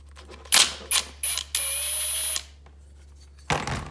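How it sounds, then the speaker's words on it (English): A tool removes an 8 mm bleeder screw from a Yamaha YFZ450 ATV: a few sharp mechanical clicks, then a sustained buzzing whir lasting about a second, a pause, and one more short metallic burst, close and loud. "we have the bleeder screw. 8 millimeter, we just get this guy right on out of there"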